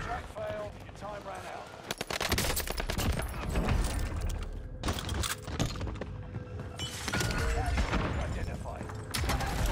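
Rapid SMG gunfire in Call of Duty Warzone, loud dense bursts of automatic fire crackling almost without pause, with brief gaps and other distant shots layered in the game mix.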